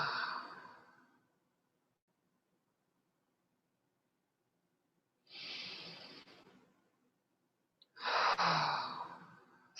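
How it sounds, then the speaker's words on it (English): Deep, slow breaths drawn in through the nose and released out through the mouth during a calm prayer session, with a long airy exhale, a silent pause, then two more breathy inhale-exhale cycles close to the mic and no talking. "take a few deeper breaths, maybe breathing in through the nose and out through the mouth"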